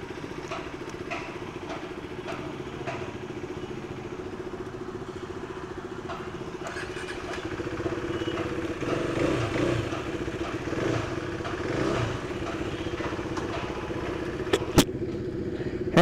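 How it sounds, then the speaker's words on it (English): A KTM RC 390 motorcycle engine idles steadily in city surroundings, a continuous droning hum with faint ticking clatter that swells slightly later on, ending in a couple of sharp clicks. "So today is the day when I'll be riding the KTM RC 390."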